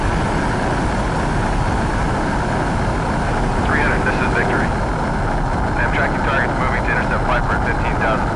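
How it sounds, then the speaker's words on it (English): Continuous loud jet engine roar of a MiG-29 taking off in a video game, steady and dense, with radio voices talking over it. "You're cleared for takeoff."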